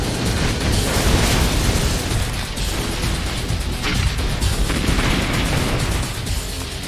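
Loud, dense barrage of booming explosions and blasts rolls on continuously in the strategy game Red Alert 20XX, a dense wall of Atlas cannon fire and crashing impacts.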